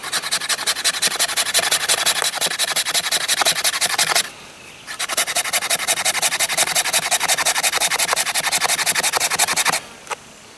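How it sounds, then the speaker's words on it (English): An LT Wright Bushcrafter HC knife shaves a regular piece of wood in quick, rhythmic rasping strokes, loud and close, running in two long series separated by a short pause and ending abruptly. "You saw clearly how it could shave fine shavings off of fat wood."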